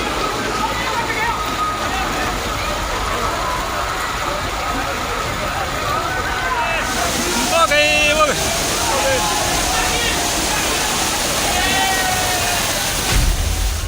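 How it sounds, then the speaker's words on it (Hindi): Floodwater surging through a Jodhpur street in monsoon rain, a steady broadband rush that stays loud and continuous throughout, with voices and brief splashing bursts in the mix. "पानी की धार इंसान को खींच ले जाएगी।"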